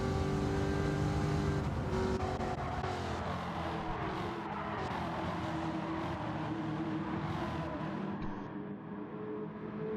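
Late model stock race cars on the GTO Late Model Stock Tour at the Hudson Memorial 125 roar steadily at close range as they battle for the lead, with engines droning and shifting pitch throughout and no talk.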